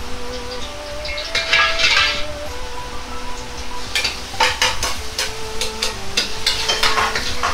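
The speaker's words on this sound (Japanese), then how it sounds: "ネギ、生姜、ニンニクを炒めていきます。" Chopped green onion, ginger and garlic gently sizzle in about three tablespoons of oil in a wok over low heat, with intermittent clinks and scrapes of a utensil stirring against the pan.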